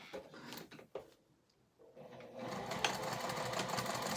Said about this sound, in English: Trying to see if y'all can see me sew